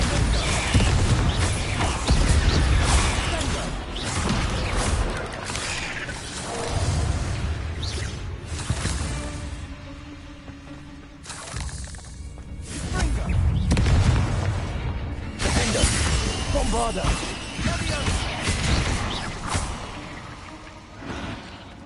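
Bombarda blasting spells in the video game Hogwarts Legacy go off in a dense, loud barrage of booming explosions and whooshes, rumbling almost continuously with brief lulls.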